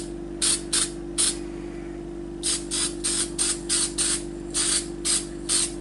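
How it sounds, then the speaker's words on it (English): Short hissing bursts from an enamel spray paint can onto a hockey mask, about a dozen quick sprays in uneven clusters, close by over a steady low hum. "I like to spray around the eyes and across all the holes."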